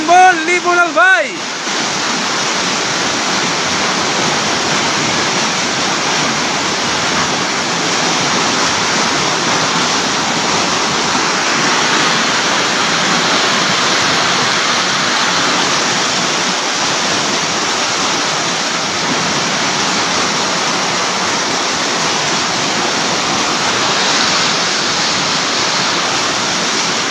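Floodwater rushes over a road in Albay during Typhoon Kristine, making a loud, steady, broadband roar that runs unbroken for the whole stretch after a brief louder burst at the very start.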